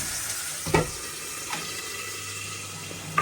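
Cumin, asafoetida, turmeric and tomato sizzle steadily in hot oil, with a few brief stirring clatters over the continuous close frying hiss.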